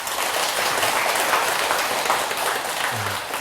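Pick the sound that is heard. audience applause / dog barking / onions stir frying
audience applause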